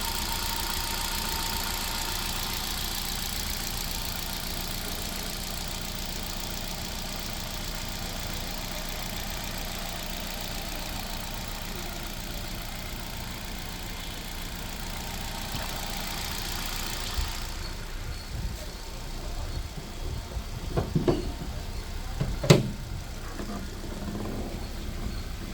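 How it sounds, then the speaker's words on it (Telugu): A 2017 Hyundai i20 Active petrol car idles with a steady, quiet, low hum that runs throughout, with some faint knocks and handling noises toward the end. "ఇంజన్ స్టార్ట్ చేసిందండి."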